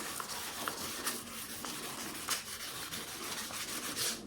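Hand sanding fresh car paint with 1200 grit sandpaper, a quiet, continuous rubbing scratch with soft irregular strokes close by, no talking.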